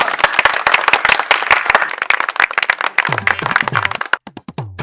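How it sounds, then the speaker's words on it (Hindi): Villagers clap for Chaudhary Ompal in a rural village scene, a loud burst of dense close applause that thins into scattered individual claps, with a voice speaking briefly over the tail. "तालियां"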